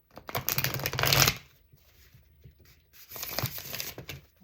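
Tarot cards being shuffled in two bursts, a rapid riffling flutter followed by a pause and then another shorter shuffle, close by.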